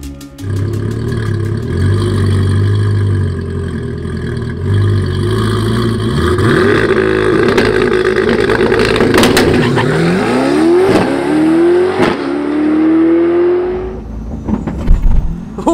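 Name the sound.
1300 horsepower prototype car driving and accelerating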